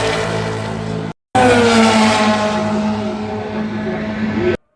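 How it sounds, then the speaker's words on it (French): Racing car engines at a historic French Grand Prix, including a 2011 Red Bull RB7 Formula 1 car, scream loudly and continuously, with a brief gap before the high-revving engine note returns and then cuts off. "je vous laisse avec des extraits des doux sons des moteurs."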